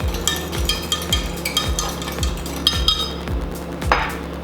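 Eggs and egg whites seasoned with salt and pepper being whisked in a bowl, a quick rhythmic series of clinking utensil strikes against the side, about two per second, steady and close.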